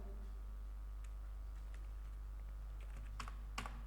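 Typing on a computer keyboard while entering an SQL query, with scattered soft key clicks that bunch into a few sharper, louder taps near the end, over a steady low hum.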